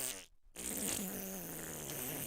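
A mouth-made fart noise, a buzzy lip-blown imitation, follows a brief silent gap and runs steadily and loud for about two seconds, close to the microphone.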